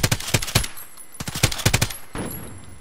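Rapid bursts of automatic gunfire in a video game firefight: two loud, close clusters of shots separated by a brief lull, then a softer trailing burst, with no voices.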